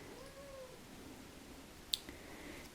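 A cat meows faintly at an animal sanctuary, one soft drawn-out call early on against low background noise, with a sharp click later.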